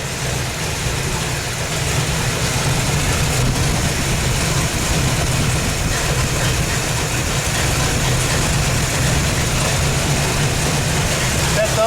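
A 1957 Corvette engine idles steadily with an overly rich mixture, giving a continuous low rumble that stays loud and even throughout, with no talk over it.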